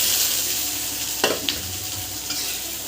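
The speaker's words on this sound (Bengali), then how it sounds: "আলুটা বেশ কিছুক্ষণ ধরে এইভাবে নেড়ে নেব" Boiled potato is stirred in a pan with ground cumin, coriander, chilli and turmeric for a bread pakora filling, giving a soft continuous sizzle and a couple of sharp spatula scrapes near the middle.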